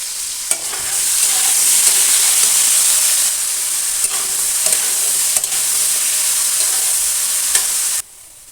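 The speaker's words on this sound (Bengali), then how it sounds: "কড়াইতে তেল দিয়েছি এবার আলুগুলো আলুগুলো একটু হালকা বেশি একটু লাল লাল করে ভেজে নেবো" Potatoes fry in oil in a wok, a loud, steady sizzle that goes on for several seconds with a few stirring knocks, then cuts off abruptly near the end.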